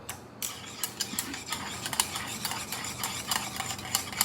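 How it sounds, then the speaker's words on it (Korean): Water and soy milk are mixed together for walnut buckwheat kongguksu noodles, with quick, rhythmic stirring strokes and light clinking of a utensil against the bowl, close and fairly quiet. "네, 요 물과 그리고 이제 1인분 정도의 콩국물을 같이 넣어주십니다. 그리고 섞어주세요."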